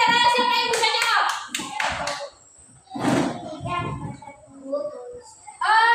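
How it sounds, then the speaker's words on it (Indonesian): Children in a classroom clap their hands in short bursts, with a teacher and kids speaking over and between the claps. "Tepuk tangan."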